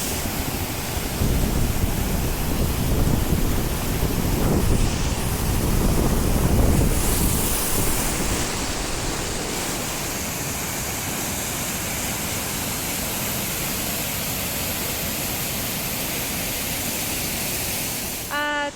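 A mountain river on the Ala Kul Lake trek in Kyrgyzstan roars as a loud, steady, close rush of water, heavily mixed with wind buffeting the microphone throughout.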